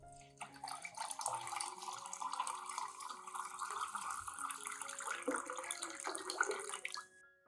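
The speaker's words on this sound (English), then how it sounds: "Add 500 milliliters of clean water to dilute the solution." Clean water poured into a diluted rice and oat plant-feeding solution, a steady close trickling splash that runs unbroken for several seconds before stopping abruptly.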